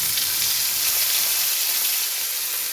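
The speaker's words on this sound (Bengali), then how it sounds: "এবার কড়াইয়ে কালো জিরে দিলাম" Nigella seeds sizzle loudly in hot oil in a wok after fish has been fried, a dense, continuous hiss heard close up with no talking.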